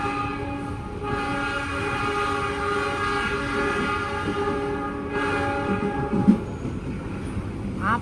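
A train passes close by with a long, steady horn blast, its tonal wail stacked over continuous rail rumble and wheel noise, the horn cutting out midway while the rolling clatter carries on.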